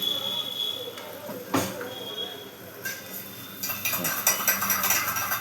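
Marinated chicken stirred in a pan, heard as scattered clinks and scrapes of a utensil against cookware, faint and close, under quiet background noise.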